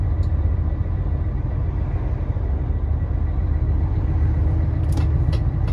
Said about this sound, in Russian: Две вот такие вот колонны прошли, здоровые-здоровые.